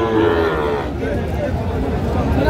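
A Sahiwal bull lows at a livestock market in Cumilla, one long, loud, close moo that fades into market background noise, with voices nearby.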